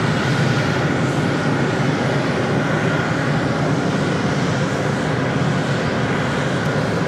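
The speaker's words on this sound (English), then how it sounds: "So I'm pushing back is Air India flight 116 heading to Mumbai in a 777-200LR" An Air India Boeing 777-200LR pushes back at JFK, its engines producing a steady, broad roar that holds at an even loudness throughout with no breaks.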